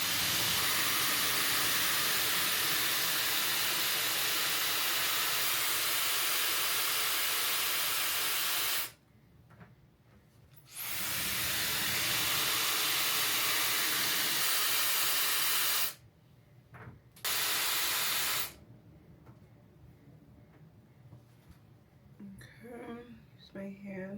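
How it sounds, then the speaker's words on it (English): An air wrap styling tool blows a loud, steady hiss of air while curling a wig, cutting off abruptly in several pauses, with quieter gaps between bursts and a little faint speech mixed in. "I'm gonna use my air wrap tool"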